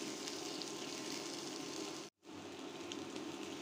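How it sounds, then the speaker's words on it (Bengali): Onion and chili frying in a pan, a steady close sizzle with a brief break partway through before the crackling resumes. "পেঁয়াজ আর মরিচ ভাজা অলমোস্ট ডান।"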